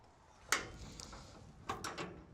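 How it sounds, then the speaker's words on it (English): Service door on an HX220L excavator swinging open, a sharp metallic latch clack followed by a rattling swing, then a second clunk and rattle as the panel settles, close and fairly quiet. "Swing this door open,"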